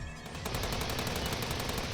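Sustained machine-gun fire from the Steins;Gate 0 visual novel, a dense loud burst of rapid repeated shots that starts about half a second in and continues steadily to the end with no talk.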